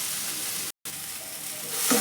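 A pea kachori filling frying and being stirred in a pan, giving a steady close sizzle with a very brief gap in the middle.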